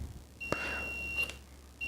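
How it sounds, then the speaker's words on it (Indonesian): A digital multimeter sounding a thin, steady high beep while testing the diode of a lamp, running for over a second alongside a few sharp clicks from the probes, then beeping again briefly near the end. "teman-teman perhatikan ada bunyi bip"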